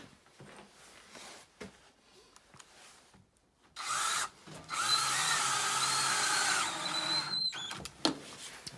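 Cordless drill driving screws to tighten a shippable rack-in-a-box assembly, with a few short bursts of whirring at close range separated by quiet pauses.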